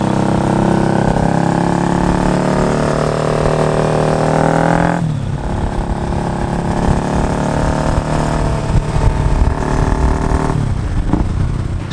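A modified Yamaha R25 motorcycle on a test ride on the road, its engine droning loud and steady close by, with a gear change and shifting revs partway through.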